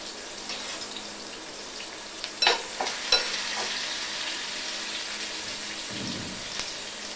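Food frying in a pan gives a steady sizzling hiss, with a few scraping stirs and light clinks partway through and a soft thud near the end.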